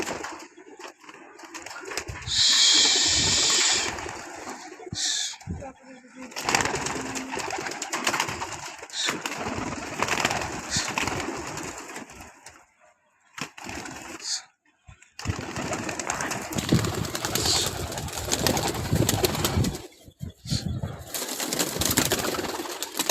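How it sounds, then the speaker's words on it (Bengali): Female pigeons coo repeatedly near their cage at home as they are let out, with soft calls and rustling over a quiet room and occasional talk. "তো এখন আমরা মাদি কবুতরগুলারে ছাড়বো।"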